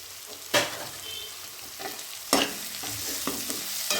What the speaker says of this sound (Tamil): இனி வந்து நாம் ஃப்ரை பண்ணி வச்ச இந்த மசால்ஸை இதில் போட்டு ரோஸ்ட் பண்ணிடலாம்